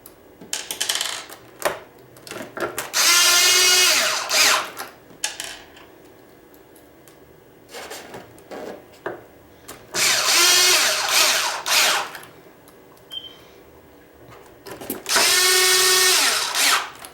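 A power drill drives screws into the plastic shell of a double-board hoverboard in three loud, sustained whirring bursts, each rising in pitch. Softer clicks and handling noises fill the gaps between bursts, with no speech.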